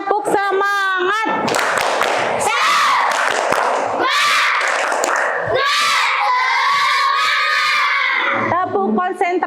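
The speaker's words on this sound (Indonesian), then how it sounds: "Oke, tepuk semangat dulu dong" A school class in Indonesia performs the rhythmic tepuk semangat clapping chant, many children clapping in patterned bursts while shouting and chanting loudly together, close and energetic throughout.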